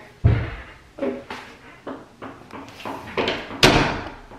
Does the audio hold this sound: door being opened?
yes